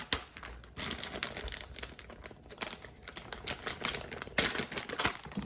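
A bag of ancho chili powder is opened, giving close, crisp plastic crinkling and rustling in quick irregular bursts for about five seconds, with no talk.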